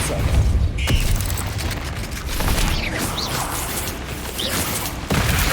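A Depulso knockback spell cast in the Harry Potter game Hogwarts Legacy, heard as a dense, continuous mechanical rumble with booming bursts and a few sharp whooshing accents over several seconds, with no talking.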